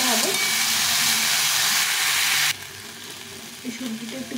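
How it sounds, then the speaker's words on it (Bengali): Mixed vegetables for a sweet pumpkin ghonto sizzle loudly in a pan, a continuous hiss that drops abruptly to a much quieter simmer about halfway through, with faint stirring sounds. "এই সবজিটা একটু ভাজা হয়ে গেছে, সুন্দর করে ভেজে নিয়েছি।"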